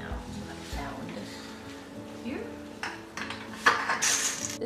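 Dry pasta goes into a pot of salted boiling water and gets stirred, giving quiet scraping, bubbling and a few metallic clinks near the end, with no talking.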